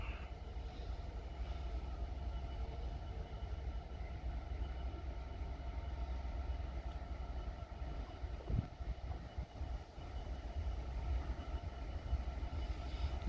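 A slow-running container freight train from Felixstowe toward Doncaster rolls past in Suffolk, giving a steady loud rumble of wagons that holds throughout, with a brief clatter partway through.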